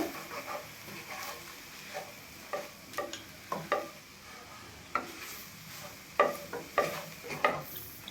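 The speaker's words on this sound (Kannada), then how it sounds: "ನಾನು ಚೆನ್ನಾಗಿ ಮಿಕ್ಸ್ ಮಾಡೋಣ" Dharwad peda mixture being stirred in a pan, quiet scraping and tapping strokes in an irregular rhythm with faint sizzling underneath.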